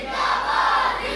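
A crowd at a religious gathering shouts a slogan together in response, a sustained massed roar of many voices at fairly close range with no single voice standing out.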